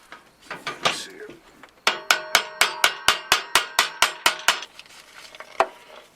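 Roughly a dozen sharp metallic taps in a steady rhythm, close and ringing, preceded by a few scattered clanks, as a small metal piece taps the exhaust of a 1993 Ford Mustang Fox Body GT.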